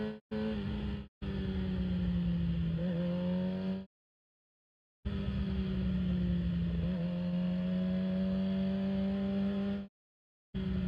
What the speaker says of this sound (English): they're in like 3rd gear, which makes the bike sound like it's going a lot faster than it really is, but it's just revving high RPM